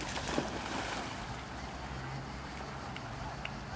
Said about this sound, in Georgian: ნავი მოდის გოგო, ნავი.